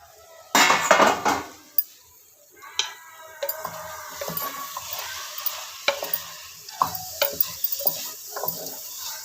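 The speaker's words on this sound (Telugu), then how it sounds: "ఇలానే మధ్యలో కలుపుతూ మూత పెట్టి మగ్గనివ్వాలి, ఆలుగడ్డ ఉడికేదాకా" A spoon stirs potato curry in a cooking pot, scraping and clinking against the metal in irregular strokes, loudest at the start and then softer, with a light sizzle underneath.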